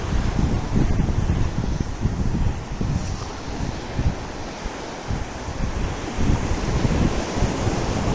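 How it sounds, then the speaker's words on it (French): Surf washes continuously on the beach at Ngaparou, Senegal, a loud, rumbling roar of waves mixed with heavy wind buffeting the microphone. "Donc là je suis sur la plage de Ngaparou."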